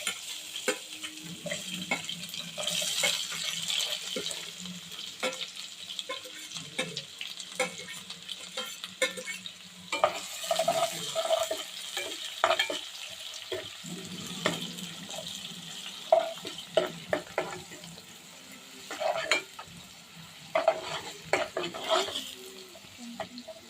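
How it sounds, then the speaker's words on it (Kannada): Garlic and onion sizzle in hot oil as they are stirred, with a steady crackling hiss broken by scraping strokes and occasional clinks, plus a brief trickle of running water. "ಇಲ್ಲಿ ಎಣ್ಣೆ ಕಾದಿದೆ. ಬೆಳ್ಳುಳ್ಳಿ ಮತ್ತು ಈರುಳ್ಳಿ ಹಾಕ್ತಿದ್ದೀವಿ."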